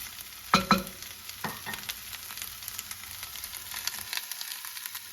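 Leftover meatloaf with peppers and onions warms in a frying pan, a soft continuous sizzle with a couple of sharp utensil knocks early on, heard close with no talking.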